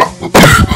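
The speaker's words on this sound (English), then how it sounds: "I'm gonna cough." A single loud, harsh cough up close, following a brief quiet moment.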